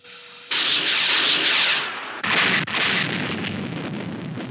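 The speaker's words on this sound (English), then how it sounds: "Both missiles are biased 5 degrees from target area. Good. Fire." Missiles launch from a submarine in the Stingray puppet cartoon: a loud, sustained whooshing roar of rocket ignition, followed after a brief drop by a second sharp burst and a continuing rumbling rush.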